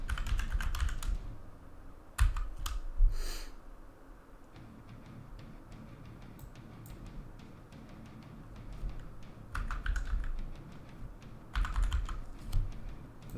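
Someone types a password on a computer keyboard, close and fairly soft, with bursts of rapid key clicks separated by short pauses and a few louder keystrokes, and no talking.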